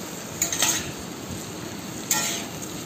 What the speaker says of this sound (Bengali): এবার এতে দেব পেঁয়াজ, টমেটো, লঙ্কা, আদা কুচি যেগুলো ছিল সমস্ত কিছু দিয়ে ভালো করে ফ্রাই করতে হবে